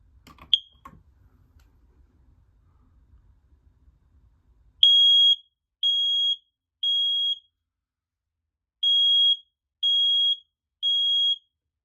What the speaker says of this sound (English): let's test the smoke alarm to make sure that the smoke alarm works